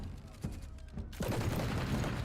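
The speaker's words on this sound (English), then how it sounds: "The arquebusiers quickly form a line and unleash a salvo of gunfire into the battle mages' ranks." Arquebus salvo from a line of arquebusiers in the fantasy video game Pillars of Eternity: a dense, sustained burst of overlapping gunfire crackle that swells after a few scattered shots, loud and continuous to the end.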